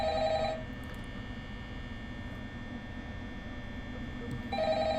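A telephone rings in the horror video game Five Nights at Freddy's, a bright electronic ring bursting at the start and again at the end, with a low droning hum and faint noise filling the gap between rings.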